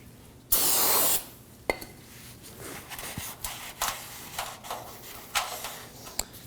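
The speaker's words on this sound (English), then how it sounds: "I'm just going to use a little bit of brake clean and a rag" A can of brake cleaner gives one loud, steady spray burst of about half a second on a Subaru XV Crosstrek front wheel hub, followed by soft, scattered rubbing and clinking as a rag wipes the hub mating surface near a fairly new rotor.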